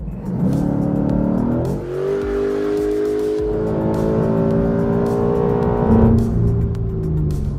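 A 2019 Ford Mustang GT with a 5-liter V8 and quad exhaust accelerates hard, a loud, continuous engine roar that climbs through the revs, drops briefly at a gear change, and keeps pulling, heard close from inside the car.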